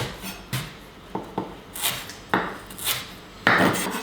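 A knife chops lemongrass into thin strips on a cutting board in irregular chops, each a sharp woody knock, close up with no talking.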